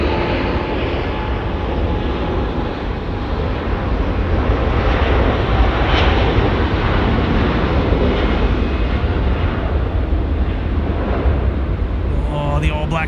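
A Boeing 787 at Auckland Airport roars loud and close with a steady, broad engine rumble across the whole stretch. It swells slightly midway, and wind buffets the microphone throughout.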